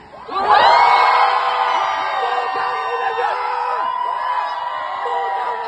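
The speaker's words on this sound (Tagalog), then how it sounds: "sumigaw lahat ng galit!" A large crowd of protesters shouting angrily together, a loud sustained mass of yelling voices that swells at the start and holds steady throughout.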